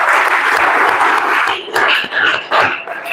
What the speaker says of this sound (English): So a big round of applause for girls.